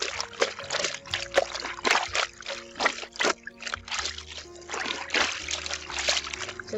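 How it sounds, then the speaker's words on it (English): A pillowcase being washed by hand in a basin of soapy water, with repeated close splashes, trickles and sloshing as the cloth is scrubbed and lifted, over a quiet music bed. "And so I start with the pillowcase first"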